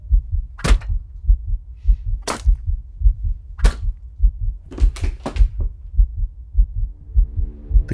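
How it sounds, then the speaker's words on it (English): A steady, low thudding resting heartbeat pulses throughout in a regular rhythm, with a few sharp clicks and snaps scattered over it, in a ghost-story game. "My own heartbeat throbs and ebbs to a resting beat"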